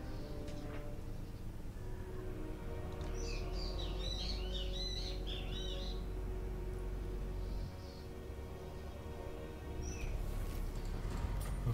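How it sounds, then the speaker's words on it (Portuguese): Wild bird chirping at a window: a short burst of bright tweets in the middle, fairly faint over a steady low background hum, with a brief chirp again near the end. "Nada melhor que o som de um passarinho na sua janela."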